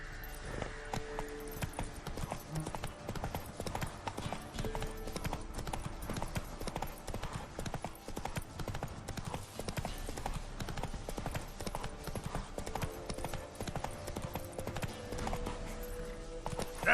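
Horse Roach's hooves clip-clop steadily in Witcher 3, a close, continuous trotting rhythm set against a dense game soundscape with an occasional whinny.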